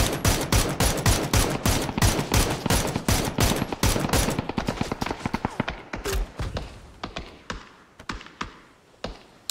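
Rapid bursts of video game gunfire in a multiplayer shooter, dense and continuous for the first few seconds, then thinning into scattered, separate shots that fade toward the end.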